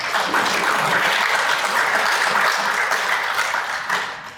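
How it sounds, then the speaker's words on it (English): A conference audience at a summer summit breaks into steady, full applause that holds evenly for about four seconds before tapering off at the end. "I thought that'd be a good applause time."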